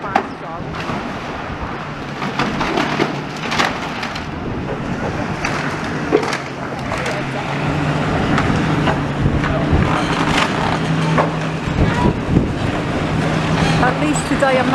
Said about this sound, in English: It's going to be a windy one again because the wind's blowing quite strong.